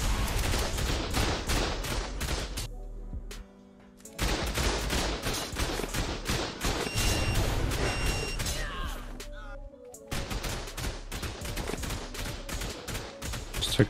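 Automated turrets firing in the game ARK during a PvP raid, producing dense, continuous bursts of gunfire that run almost without pause, with brief gaps near four and ten seconds.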